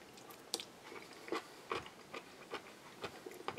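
Home-fermented pickles are crunched and chewed close by, with faint, quiet bites and crisp crunches repeating about every half second.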